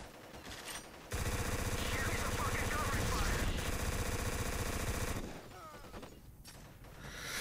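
Dense, loud automatic gunfire from the 2011 Xbox first-person shooter Black rattles continuously for several seconds, then tapers into scattered shots and mechanical clatter.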